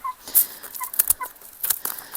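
A young chicken gives short, scattered clucks and squawks up close while being handled in a coop, mixed with light rustling and handling noises.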